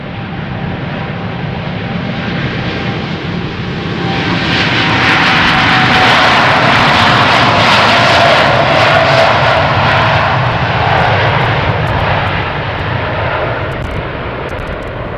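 A Cathay Pacific jet airliner at Schiphol Airport, a broad roaring engine rumble that swells to a loud peak midway and then eases off while still sustained, heard from a moderate distance with no talk.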